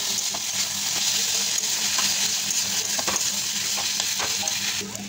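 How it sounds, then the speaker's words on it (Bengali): Onions with salt and turmeric fry in a pan, a steady loud sizzle broken by scattered clicks and scrapes of stirring close by. "এখন ভাজাটা হইতেছে"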